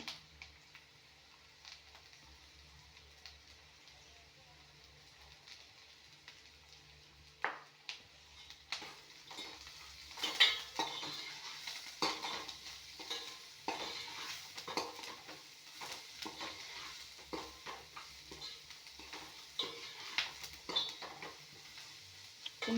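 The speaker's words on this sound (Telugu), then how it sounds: "సాల్ట్ పసుపు వేసుకున్నామంటే ఆనియన్ ఇంకా కొంత తొందరగా వేగిపోతుందండి" Sliced onion frying in a pan with salt and turmeric, stirred with a utensil, giving a steady soft sizzle broken by scraping and light clinks of the pan, growing busier after the first few seconds.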